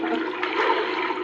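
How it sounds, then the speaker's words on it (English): Endless Pools swimming pool current switching on, a brief rushing surge of water, steady and close, with no talk. "So we can turn the current on"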